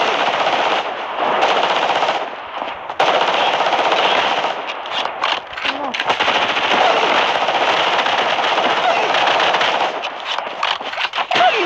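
Sustained rapid automatic gunfire in a video game, a dense, loud crackling burst running almost without pause, with only a few brief dips.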